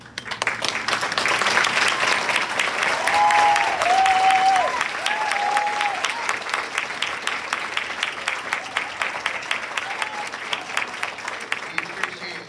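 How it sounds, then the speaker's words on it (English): An audience breaks into sustained applause to honour veterans standing at a first grade musical performance, with many hands clapping loudly, then thinning into scattered claps as it fades. "we want to give you a round of applause"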